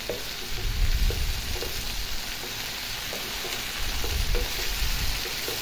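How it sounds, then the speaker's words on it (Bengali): Moringa flowers cook in a pan for a vegetarian dish, a soft steady sizzle under repeated low scraping knocks as they are stirred and turned, close and fairly quiet, no speech. "তো দেখুন ভালো করে নেড়ে চেড়ে নিতেছি"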